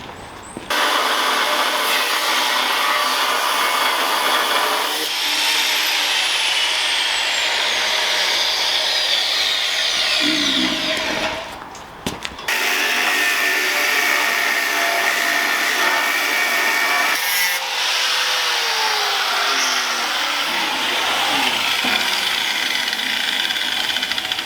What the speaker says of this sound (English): get the angle grinder into it and get it cut out